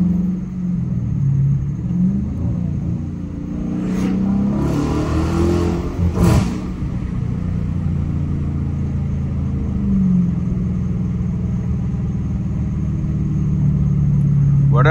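A Dodge Challenger R/T driven late at night gives a steady, loud low engine rumble from inside the car, with the pitch rising and falling as it revs and accelerates.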